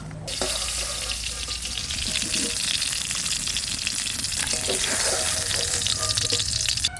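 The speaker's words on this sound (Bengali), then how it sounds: "তেলের উপর গরম মশলা ফোড়ন দিলাম" Whole garam masala spices hiss and sizzle in hot oil for a potol (pointed gourd) dish, a steady broadband frying crackle filling the whole stretch, close and fairly loud with no talking.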